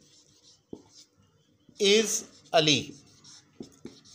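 Soft scratchy strokes of a pen writing words on paper in a neat handwriting style, appearing as brief faint scrapes between and under a man's spoken words.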